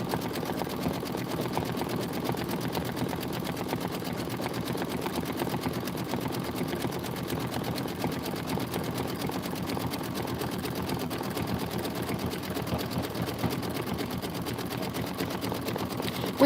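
Embroidery machine stitching out a hat band design, a fast, steady mechanical rattle of needle strokes repeating evenly and without pause, fairly quiet and close.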